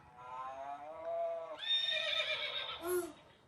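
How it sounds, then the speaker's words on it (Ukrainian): A horse whinnies loudly, a long quavering neigh that climbs in pitch and ends with a short high snort, with no voices alongside. "Коник."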